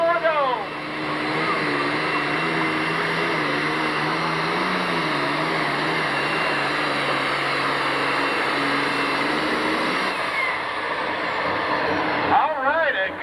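A John Deere pulling tractor in the 7,500–9,500 lb class at a 1997 Freeport, Illinois tractor pull roars loudly and steadily for about ten seconds, its engine pitch rising and shifting, before cutting off and briefly revving near the end.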